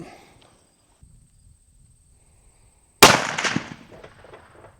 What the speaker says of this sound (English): first shot with the bore driver ELD-X's at 100 yards